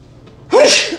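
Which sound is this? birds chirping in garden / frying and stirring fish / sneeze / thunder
sneeze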